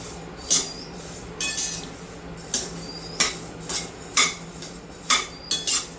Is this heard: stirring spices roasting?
yes